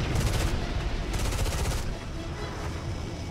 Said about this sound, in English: He starts getting hammered immediately by AAA fire and makes his first pass.